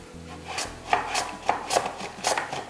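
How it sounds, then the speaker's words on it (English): Potatoes and half an onion sliced on a mandolin in a home kitchen, a handful of separate rasping strokes spaced roughly half a second apart, close and moderately loud, with no talking. "I'm just going to slice 3 potatoes with the mandolin and half of the onion."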